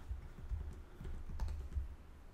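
Steady, quick keystrokes on a computer keyboard typing a short line of text, with a rapid uneven clicking rhythm and no voice over it.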